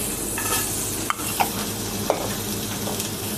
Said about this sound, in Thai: ผัดต่อ ผัดไปเรื่อยๆครับ